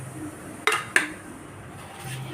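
Cut mango pieces drop into a blender jar in two quick, close clinks a fraction of a second apart, followed by quiet room tone.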